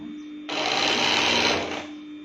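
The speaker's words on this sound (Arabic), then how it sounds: "ونبدأ نخيط من الجهة الثانية" A sewing machine stitching an open abaya of crepe fabric runs in one steady, loud burst of rapid stitching for about a second and a half, with a low hum before and after.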